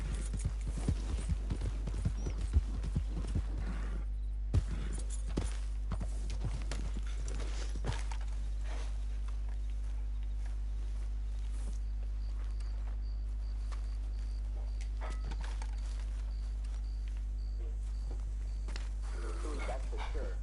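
Horse hooves clopping at a walk in the Red Dead Redemption 2 video game, a run of steady hoof hits early on that thins out, over a constant low game hum with faint birds.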